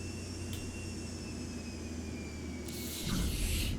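A simulated airplane lands at Key West in the X-Plane 12 flight simulator: a steady engine drone and hiss run throughout, then a loud, rough burst of noise near the end marks a hard touchdown.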